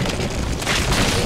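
Explosion in the Resident Evil 6 video game, a loud, broad, sustained boom filling the whole moment, close and dense with no talk over it.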